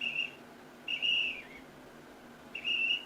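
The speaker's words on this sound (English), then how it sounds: "Blowing the whistle." A whistle blown in three sharp, shrill blasts, each short and separated by pauses, clear and fairly close over a quiet background.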